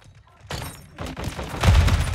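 P89 pistol gunfire in the video game Call of Duty Modern Warfare 2, several loud booming shots in quick succession, growing heavier toward the end.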